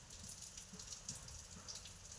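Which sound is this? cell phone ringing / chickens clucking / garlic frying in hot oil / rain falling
rain falling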